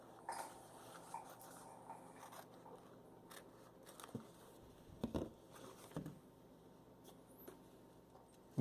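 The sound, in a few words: scissors cutting a clear plastic lamination sheet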